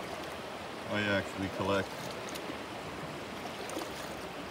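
Creek water flows in a steady, even wash at a gold-panning spot, and a voice speaks briefly over it.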